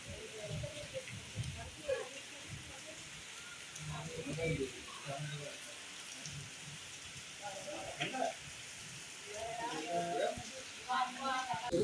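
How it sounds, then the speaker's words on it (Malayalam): Steady rain falling outdoors during a trip near a river in Kothamangalam, a constant soft hiss of drops running under intermittent nearby talking throughout. "മഴ പെയ്തുകൊണ്ടിരിക്കുകയാണ്"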